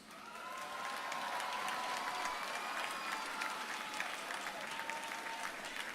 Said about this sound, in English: Look to the audience and give them a round of applause.